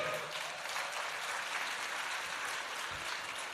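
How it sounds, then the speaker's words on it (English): A crowd applauds at the Central Great Lakes Emmy Awards ceremony, a dense, steady wash of clapping that holds evenly throughout with no voices over it. "Another round of applause for Terry, everybody."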